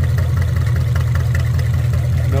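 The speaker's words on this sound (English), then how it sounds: "a video of the 1929 Roadster pickup idling" A 1929 Ford Model A roadster pickup hot rod engine with custom side pipes and no hood idles close up, a steady low rumbling putter with an even rhythm throughout.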